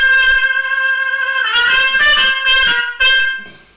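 A trumpet with a Harmon mute, stem in, plays a sustained, buzzy, nasal note, then several short articulated notes, close and fairly loud.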